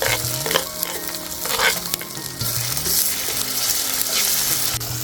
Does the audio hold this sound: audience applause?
no